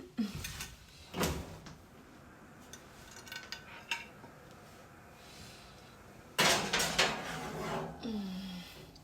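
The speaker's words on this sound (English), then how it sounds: "We're gonna try our best to separate them, but I mean, like, what are you gonna do? Let's put it in the oven." Cookie tray slid into a home oven: metallic clanks and scrapes of the baking tray, an oven door opening and thudding shut, with quiet handling noises between.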